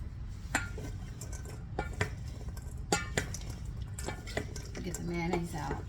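Broccoli salad being tossed in a bowl, with scattered clinks and wet stirring clatter of utensils against the dish, close and moderately quiet, a voice talking briefly near the end.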